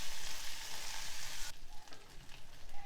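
Young tamarind leaves and coriander sizzle loudly in a hot pan as they are stirred, a steady dense frying hiss that turns rougher partway through with scattered scraping and popping.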